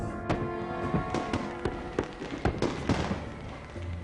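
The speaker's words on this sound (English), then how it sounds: "As the 4th of July fireworks lit up the sky over Vegas" Fourth of July fireworks over Las Vegas, a rapid series of sharp bangs and pops, roughly a dozen irregular bursts over a rumbling background, loud and fairly near.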